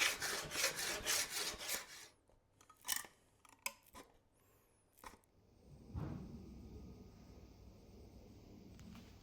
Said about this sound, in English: I'm going to soften up the edges, and then I'll trim this edge down to size